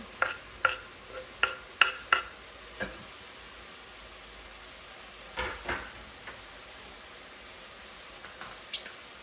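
Chili tossed into curry masala in a pan for a homemade prawn curry, with soft sizzling under a series of sharp scraping stirs, several quick strokes in a cluster, then a pause and a few more scattered ones.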